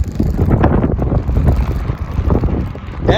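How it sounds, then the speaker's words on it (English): Wind buffets the microphone on a bike ride on a very windy day, a loud rumbling gusty roar with irregular surges throughout and no talk. "Fortunately, you can tell the wind is out of the northwest."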